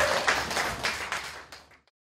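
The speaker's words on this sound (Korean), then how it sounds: "큰 박수로 감사드리겠습니다" An audience at a Buddhist dharma ceremony claps in steady applause that tapers off and ends in silence, fairly faint and heard from a distance.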